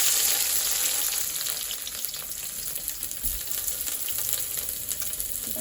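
Bitter gourd pieces deep frying in hot oil, a steady, dense sizzle and crackle filling the whole stretch at an even loudness with no talking.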